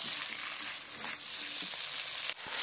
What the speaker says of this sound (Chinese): 放入线椒翻炒